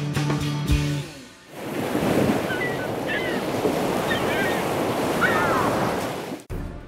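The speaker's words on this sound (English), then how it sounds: "we got a little bit of wind picking up" Steady wind gusts roar across open ice on the frozen Mississippi River during a perch fishing outing, buffeting the microphone with a broad rushing noise and faint high whistles, after a brief mechanical rattle at the start.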